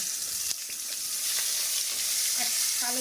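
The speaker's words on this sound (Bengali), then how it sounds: "তেলটার ভেতরে দিয়ে দেবো একটু কালো জিরা পেঁয়াজ" Nigella seeds and onion dropped into hot oil in a home kitchen, giving a loud, steady, close sizzle and hiss with a few light stirring clicks.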